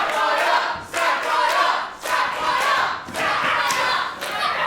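A wrestling crowd at a women's match cheers for Safire in loud rhythmic chants, roaring in repeated surges about once a second, with shouting voices mixed in.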